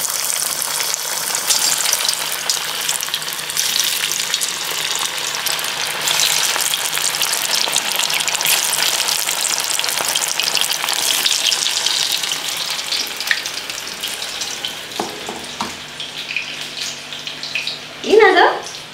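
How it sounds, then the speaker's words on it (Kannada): Green cauliflower pieces drop into hot oil for deep frying, giving a steady broadband sizzle throughout, with a few clunks and a short louder burst near the end. "ಈಗ ಎಣ್ಣೆ ಕಾದ್ಮೇಲೆ ಒಂದೊಂದೇ ಪೀಸಸ್ನ ಹಾಕೊಳ್ಳೋಣ."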